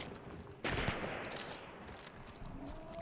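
A gunshot in the video game Hunt: Showdown, a sudden loud broadband crack with a long rolling echo that trails off, followed by steady background ambience and a smaller second burst near the end.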